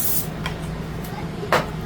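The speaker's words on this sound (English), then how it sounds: "Just spray this pan" Cooking spray hisses onto a metal cookie sheet pan in a home kitchen, a short burst near the start and a sharper, louder spritz toward the end over steady room hum.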